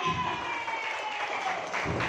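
Applause from an audience at a marketing plan presentation, a steady wash of clapping that continues without a break.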